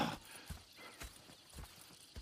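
Video game horse hooves clip-clop in a steady, even walking rhythm, close and moderately loud, with no voices, from Red Dead Redemption 2.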